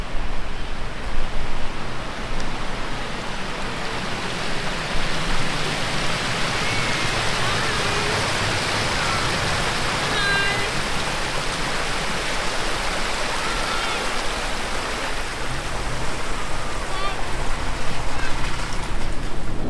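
A four-wheel-drive vehicle ploughs through a creek crossing in West Arnhem Land, producing a sustained broad wash of churning, splashing water over engine rumble, loud and continuous from start to finish.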